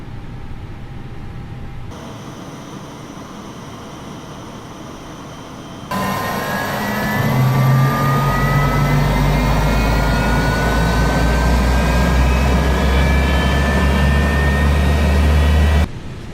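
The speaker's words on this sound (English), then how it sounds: "Time to start up the engines, starting with engine 2." Airliner engine starting up in Microsoft Flight Simulator 2020: a steady whine that climbs in pitch and builds into a loud, sustained jet roar, continuous and close, with no talking.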